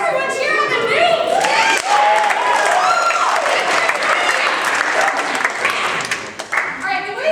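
An audience at an improv comedy show cheers and applauds loudly, with whoops and shouts over dense clapping that fades slightly at the end.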